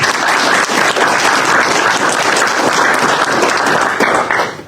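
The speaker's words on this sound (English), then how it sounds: "So let's give them all a round of applause." An audience at a Murrieta Fire & Rescue community coffee event breaks into loud, continuous applause, a dense crowd of clapping hands that fades out at the very end.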